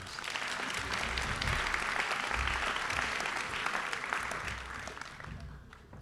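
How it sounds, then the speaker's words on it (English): A school audience at an Upper School Senior Class Night gives the advisors another round of applause, with dense, sustained clapping that swells and then tapers off toward the end, no voices over it. "Would you give them one more round of applause?"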